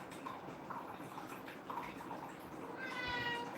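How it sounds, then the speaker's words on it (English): An elderly 20-year-old cat gives a faint meow near the end, brief and quiet against a low background hum, with no talking over it. "I got a 20-year-old cat."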